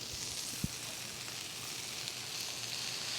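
A porterhouse steak searing in a pan gives a steady, close hiss and crackle of sizzling fat, with one brief tap partway through and no voices.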